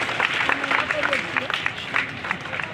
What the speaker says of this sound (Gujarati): તાળીથી ઉઠાવજો બેનશ્રી